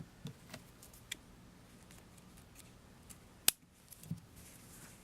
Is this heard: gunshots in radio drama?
no